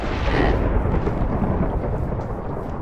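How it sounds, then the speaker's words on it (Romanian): Thunder from lightning in a Hunger Games-style video game, a loud, sustained deep rumbling roll that fades slowly, with no talk over it. "Sigur că am văzut fulger."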